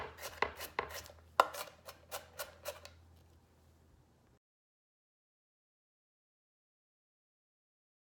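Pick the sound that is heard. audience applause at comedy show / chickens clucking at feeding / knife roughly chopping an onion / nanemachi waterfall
knife roughly chopping an onion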